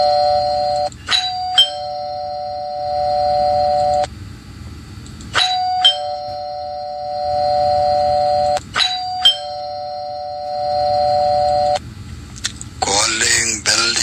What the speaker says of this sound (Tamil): காலிங் பெல் யாரோ அடிக்கிறது போல இருக்கு பாருங்க